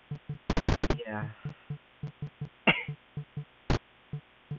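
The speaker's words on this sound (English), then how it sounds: "I get a lot of coughs sometimes" A quick burst of several sharp coughs, followed by a throaty sound and a later single cough, over a regularly pulsing electronic background.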